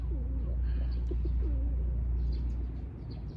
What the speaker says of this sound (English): these pigeons are talking to me